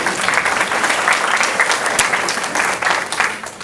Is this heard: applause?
yes